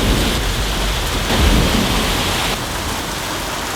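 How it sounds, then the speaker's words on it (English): Steady heavy rain pours over a jungle campsite as the first rain of the year falls, with thunder rumbling low underneath and swelling briefly midway, loud and continuous with no voices. "Just in time for the first rain of the year."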